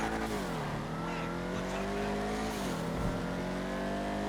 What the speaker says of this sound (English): the wheels spin in a muscle cars with this much power